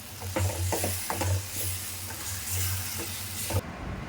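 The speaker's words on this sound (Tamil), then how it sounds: "இதில் போட்டு நல்லா கிண்டி விடுங்க" Dough mixture being stirred in a pan while making a Kerala-style sweet evening snack, with repeated scraping strokes over a steady sizzle of hot oil, close and fairly loud, no talking.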